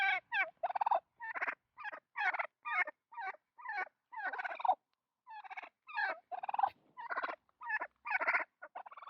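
Rapid, rattling gobbles from a French turkey, a breed crossed with chickens, come in quick repeated bursts with short gaps, close and fairly loud, with no other sounds.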